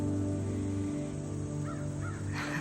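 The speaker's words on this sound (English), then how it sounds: "you can tell it's fall when the crows are singing and flying" Crows cawing outdoors in fall, two or three distinct caws at moderate distance over a constant low hum.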